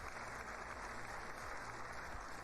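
Applause from a seated audience at a political hearing, steady dense clapping heard from a distance, faint and continuous for a couple of seconds with no voices.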